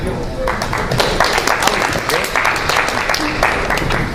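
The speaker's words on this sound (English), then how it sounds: "So everybody please give a round of applause if you wouldn't mind." Dense applause from an audience at an open-mic night, steady clapping filling the space throughout with a murmur of voices underneath.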